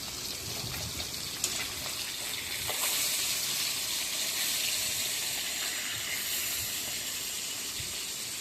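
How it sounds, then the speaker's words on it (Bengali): Koi fish pieces frying in hot oil in a pan, a continuous close hissing sizzle with soft crackles that stays even and unbroken throughout. "দেখো মাছ ভাজা হচ্ছে আমার।"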